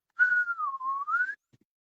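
A person whistles in imitation of a metal slide whistle, with one clear sustained tone that slides down and then glides back up over about a second, alone and close, followed by a tiny click.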